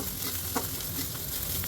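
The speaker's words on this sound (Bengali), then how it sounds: "এবার ভালো করে নাড়ব।" Panch phoron spices fry in hot oil for lentil dal while being stirred, a dense close crackling sizzle with a few small pops and scraping strokes and no talk.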